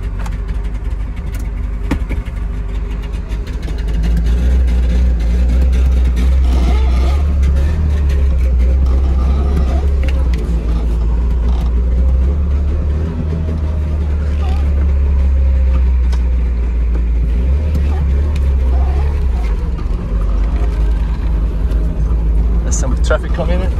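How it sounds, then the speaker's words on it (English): Trabant 601 car driving on the road, its engine a steady low drone with rising and falling revs that runs throughout, while a person talks over it. "let's take this car"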